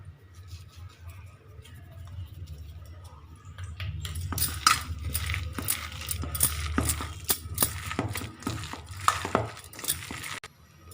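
Vada dough with mint, ginger and salt being mixed by hand in a bowl, first a low quiet hum, then a dense run of moist squelching and knocking sounds that grows louder midway and continues to the end.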